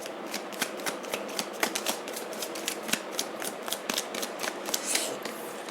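Tarot cards shuffled and drawn by hand, a quick irregular series of crisp flicks and snaps, close and fairly quiet with no talking.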